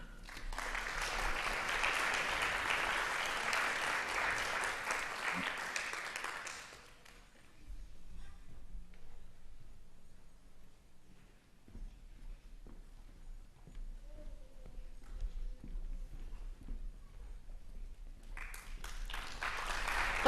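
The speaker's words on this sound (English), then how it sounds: "Let's have a big round of applause for all of our award winners" An audience at an annual reading and writing awards presentation applauds the winners with a burst of clapping that runs for several seconds and then stops. Near-silence follows, and clapping resumes at the very end.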